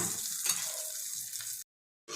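Loud, close sizzle of tempering spices hitting hot oil for sesame chutney, hissing continuously before cutting off abruptly, then briefly returning at the end.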